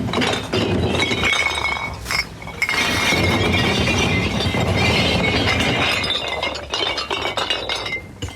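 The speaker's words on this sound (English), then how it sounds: "If there's a bin truck in your neighborhood doing glass, you'll hear it all afternoon." Bin truck emptying a load of glass bottles, a loud, continuous cascade of clinking and shattering glass that rushes on for several seconds before thinning into scattered clinks.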